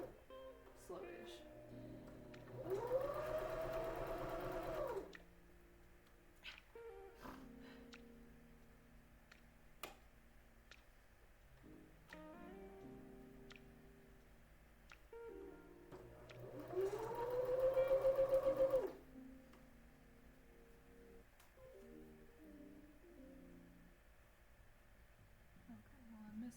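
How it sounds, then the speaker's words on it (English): A sewing machine runs slowly in two separate bursts of rising motor whine while stitching a 1960s-style apron. Quieter handling sounds fill the gaps between the runs. "Still gonna sew really freaking slow so I don't mess this up."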